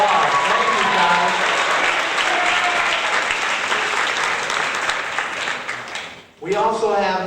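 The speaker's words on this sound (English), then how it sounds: "Everybody give Kai a round of applause." A school concert audience gives a sustained round of applause, loud dense clapping for about six seconds before it dips and a voice speaks.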